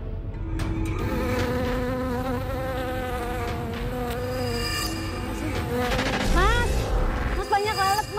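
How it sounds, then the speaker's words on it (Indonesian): Many flies buzzing close by in a swarm, a dense, continuous drone of overlapping wingbeats rising and falling in pitch as individual insects pass near. "Mas banyak lalat, Mas."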